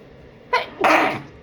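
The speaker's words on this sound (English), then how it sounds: "I'm gonna have to sneeze again" A single close sneeze: a short sharp intake burst, then a louder explosive release, with no talking around it.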